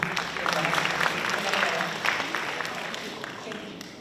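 Conference audience applause, a steady wash of clapping filling the room and slowly tapering off, with faint voices mixed in.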